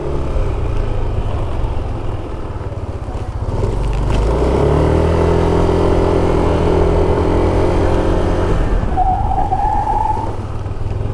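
A 2020 Yamaha NMAX scooter engine drones nearby and builds, then a brief tire squeal from the front wheel skidding under hard front braking rises near the end.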